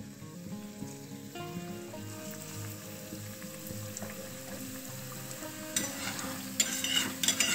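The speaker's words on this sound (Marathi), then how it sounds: "आता इथे मी तेल गरम करून घेतलेलं आहे। यामध्ये आपल्याला छोटी छोटी भजी सोडायची आहेत।" Small taro-leaf fritters (alu vadi bhaji) made with gram flour batter frying in hot oil, a steady crackling sizzle with soft bubbling that grows louder and sharper toward the end.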